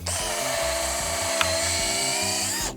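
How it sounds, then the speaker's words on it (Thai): A power drill bores a pilot hole into a wooden piece during a DIY furniture build, a steady high whine holding for nearly three seconds, close and loud with no talk. "ผมจะเจาะนำก่อน"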